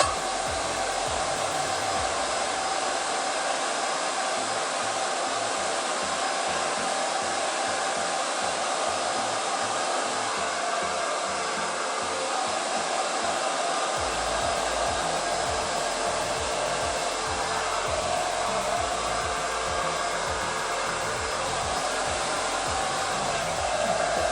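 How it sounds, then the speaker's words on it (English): A hair dryer runs continuously and loudly while fine hair is brushed through and blow-dried in a salon styling session, a steady close roar with slight shifts in tone as the airflow moves around. "I then work in the product with my brush and blow dry that through and into the hair."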